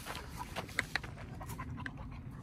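A hyperactive small dog, about 50 cm tall, panting quickly close by with a few sharp high whimpers mixed in, fairly faint overall with no clear talking.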